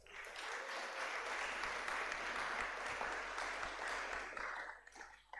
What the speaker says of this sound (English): Can we now give them a round of applause?